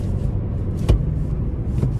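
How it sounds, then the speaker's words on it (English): A 2025 Nissan Sentra SR 2.0 rolls along on a test drive, a steady low cabin rumble of engine and road noise with a couple of brief bumps, heard from inside the car. "starting the test drive in the Sentra here"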